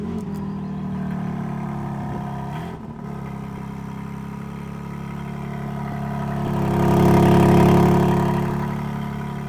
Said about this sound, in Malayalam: ഹുറാക്കൻ ഇവോ സ്റ്റാർട്ട് ചെയ്യുമ്പോൾ ഇതിൻ്റെ എക്സോസിൻ്റെ സൗണ്ട് ആദ്യം നോക്കാം.